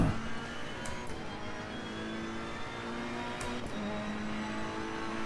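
A Ferrari 488 race car in Assetto Corsa Competizione drives a lap at Paul Ricard, its engine holding a steady high drone with slight pitch shifts and brief gear-change blips, close and continuous with no talk.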